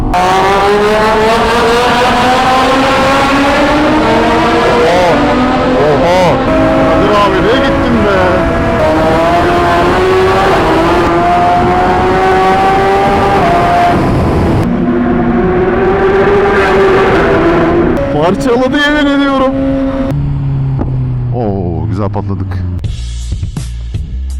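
Loud motorcycle exhaust roars and revs continuously in a tunnel, rising and falling in pitch with echoing resonance, joined by a lower droning engine near the end.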